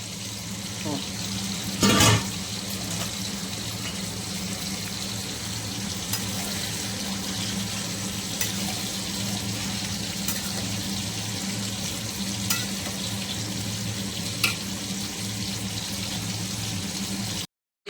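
Chicken meat frying in a pan gives a continuous soft sizzle and bubble throughout, steady and fairly quiet, with a few sharp clinks and a louder clatter early on.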